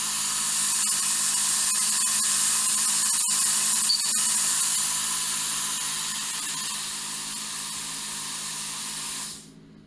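A steady, loud high-pitched drilling whine from a drill boring a hole in the top of a sheet-metal nurse trailer frame, running continuously with a few brief catches before stopping abruptly near the end.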